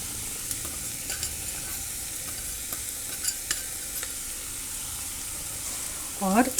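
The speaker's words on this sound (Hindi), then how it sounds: "और इस मटर को मसाले के साथ में भून लेना, जिससे ये सॉफ्ट हो जाएगा जल्दी।" Ground peas fry with spices in a pan, giving a steady sizzle under repeated scraping stirs of a spoon. A brief voice rises right at the end.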